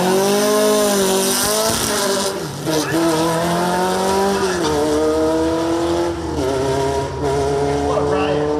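A black air-cooled Volkswagen drag car roars down the strip, its engine loud and rising through the gears in a raspy wail, while an announcer talks over the run.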